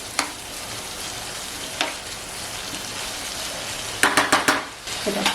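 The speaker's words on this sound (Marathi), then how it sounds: "एक दहा मिनटं आपल्याला परतून घ्यायची आहे कोलंबी" Prawns stir-fried on a tawa sizzle steadily, with a few sharp clinks early on and a quick run of spatula scrapes and taps against the pan near the end.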